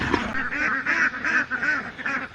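Farm ducks or geese on a pond, a continuous run of loud nasal honks and quacks, several birds calling close by with no talk over them.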